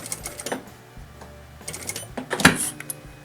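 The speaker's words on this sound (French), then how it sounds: "je vais venir coudre, puis chacun de mes points pivots, je vais venir coudre tout le tour" A sewing machine stitches around fabric scraps being made into coasters, producing fast mechanical rattling clicks with a few sharper knocks, moderately close and without talk.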